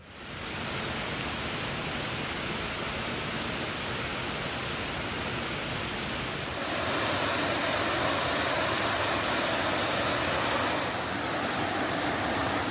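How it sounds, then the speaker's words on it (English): Bells Canyon Upper Falls in the Wasatch roars as a steady, dense rush of falling water in frosty granite terrain, loud and continuous throughout and swelling slightly partway through. "I'm going to follow my ears and see if there's some waterfalls down there"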